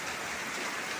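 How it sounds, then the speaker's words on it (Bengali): Heavy rain pouring onto a waterlogged road with motorcycles and taxis around, a dense, steady hiss of close downpour with no gaps. "প্রচুর বৃষ্টি হইতেছে, প্রচুর বৃষ্টি।"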